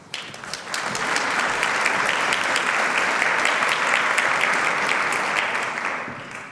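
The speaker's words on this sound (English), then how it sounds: "Please join me in giving him a warm round of applause" A large crowd claps steadily, a dense wash of applause that swells quickly, holds for several seconds, then begins to thin out.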